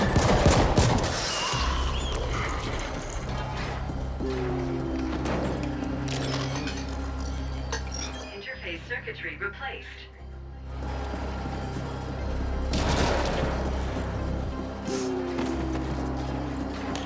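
Gunfire and combat in the video game The Ascent, rapid bursts of shots over a dense layer of game music and effects, loud throughout with a lull in the middle before the firing picks up again.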